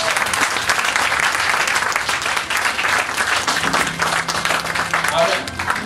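A church congregation applauds in a continuous, loud wave of clapping from many hands that fills the room throughout, with voices calling out under it.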